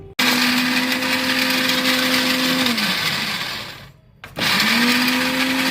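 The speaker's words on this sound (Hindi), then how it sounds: "so we are gonna crush it in the mixie" A mixer grinder whirs loudly at high speed crushing dry fruit for besan laddu, its pitch dipping as it slows and briefly stops, then roars back up again.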